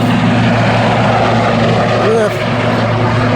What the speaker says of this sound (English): that's like a helicopter in the background, I think